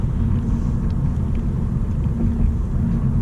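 Interior cabin sound of a 2022 Honda Civic RS driving on city roads in Manila: a steady, loud low-frequency rumble of engine and tire road noise, constant and even.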